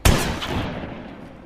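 A single sharp gunshot in the video game Granny: Chapter Three bursts out at the start and fades into a rumbling echo and lingering noise, loud and alone with no talk.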